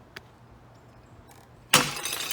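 A glass bottle holding a non-champagne liquid smashes against a boat hull at a christening, one loud sudden shatter after a quiet moment, trailing into scattered clinks and splashing noise.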